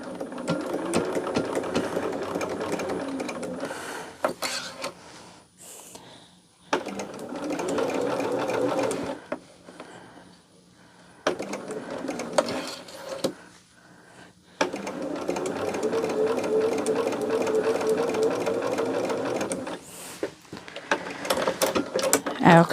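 A sewing machine stitching two quilt pieces together runs in several steady whirring bursts separated by short pauses, close and loud.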